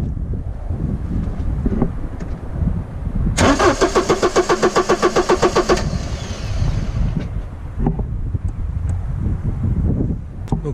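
A diesel car engine (HDi or dCi type) cranks without catching, a rapid rhythmic starter churn lasting about two and a half seconds, loud and close, set between stretches of wind buffeting on the microphone.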